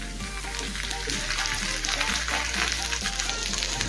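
Paneer tacos fry crisp in a pan over a low gas flame, giving a continuous close sizzle and crackle of hot oil that stays steady throughout with no speech.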